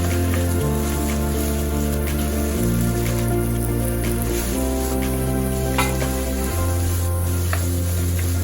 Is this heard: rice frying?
yes